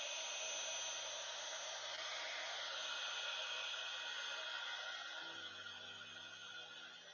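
A heat tool blasts hot air onto glow-in-the-dark embossing powder at a craft desk, a steady loud whooshing hiss that runs unbroken for about seven seconds with no talk over it.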